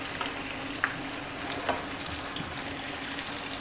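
Chicken pieces fry in a pan over the heat, a steady broadband sizzle with a few brief crackles and pops, close and continuous with no talking.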